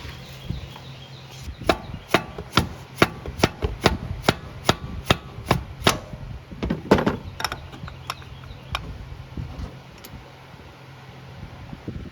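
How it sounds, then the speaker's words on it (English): A mallet knocks at a stuck starter on a Honda Foreman 500 ATV, a run of about fifteen sharp, close raps at a fairly steady pace that thin out toward the end. "you may want to get you a mallet or something to kind of bump it loose to be able to remove it"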